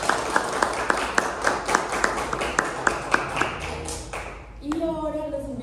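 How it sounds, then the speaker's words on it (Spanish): Audience applause at a cultural event on Afro-Bogotan heritage, a crowd clapping steadily and fairly close for about four seconds, then fading as a voice starts speaking at the end. "les pido por favor un fuerte aplauso"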